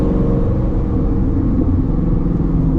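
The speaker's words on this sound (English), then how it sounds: "The downshifts are so nice." Shelby GT350 Mustang engine rumbling loud and steady on a road drive, a deep continuous exhaust drone with slight pitch shifts as it downshifts.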